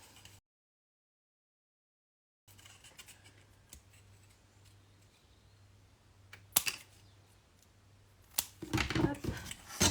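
Scissors cut along the edge of a paper album piece during a craft build, giving a few sharp snips after a quiet stretch, with louder rustling and cutting near the end.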